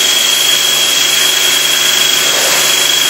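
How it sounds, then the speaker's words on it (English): A Quickmill drilling tool roughs out a hole through a tubesheet and baffle stack at 1500 RPM, giving off a loud, steady, high-pitched machining whine that holds without a break and with no talk. "We're demonstrating the Quickmill drilling tool that was described to you earlier."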